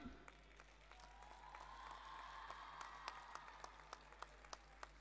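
Cricketer Richa Ghosh is called onto the stage at her Eden Gardens felicitation, and a faint, distant crowd gives her thin, scattered applause with sparse individual claps standing out.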